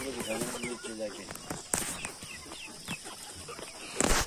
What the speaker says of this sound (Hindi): जो हम पकड़ा था, मुर्गा पकड़ा था, वो उसका नाम मैंने कुकू रखा है